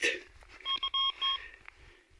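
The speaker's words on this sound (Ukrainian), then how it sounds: "Провірив іскателем. Ще щось тут пищить." A metal detector beeping over a buried coin in a field: a few short, close electronic tones in quick succession, with a faint scuff before them and quieter tail noise after.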